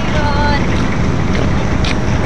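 A passenger ship at port sends up a steady, loud roar of engine rumble mixed with strong wind buffeting the microphone, constant throughout with no clear pauses.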